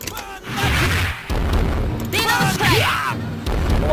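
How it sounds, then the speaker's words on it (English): A firework-like special move effect in King of Fighters 97 bursts out in booming hits and crackling, whistling sweeps, repeating over a few seconds amid other loud fight sounds from the game. "Oh, I don't like that firework."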